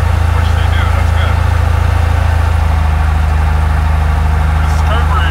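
Light aircraft piston engine running steadily at a low rumble with a constant throbbing drone during a spark plug ignition check, a faint subtle change partway through, and no talk over it.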